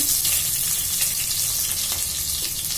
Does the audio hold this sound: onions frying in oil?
yes